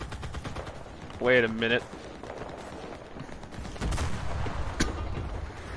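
Gunfire crackles in bursts during a World War II shooter match of Enlisted, with a sharp shot standing out near the end, loud and close, while a player briefly speaks.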